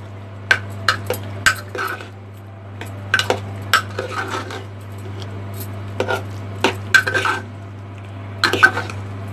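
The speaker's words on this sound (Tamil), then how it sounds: "தாளிச்சதை நம்ம இந்த அப்பளக்கூட்டில் போட்டு நல்லா மிக்ஸ் பண்ணி விடுங்க." A spoon stirs tempering into papad kootu in a metal pot, with repeated sharp scraping clinks in an irregular rhythm over a steady low hum, up close and with no talk.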